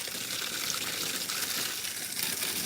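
A steady, full gush of water pours over freshly repotted garcinia plants, a continuous close hiss with no breaks and no voices.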